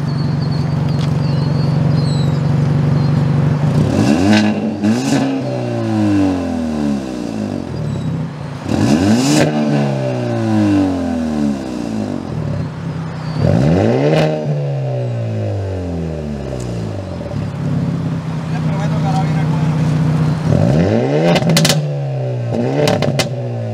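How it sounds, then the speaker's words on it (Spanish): A 2023 Hyundai Elantra N engine revs four separate times in Eco, Comfort, Sport and N drive modes, each a loud, close burst that climbs and falls back to idle, with no talk over it. "Lo voy a acelerar 4 veces. La primera va a ser en Eco, la segunda va a ser en Comfort, la otra va a ser en Sport y la otra en N"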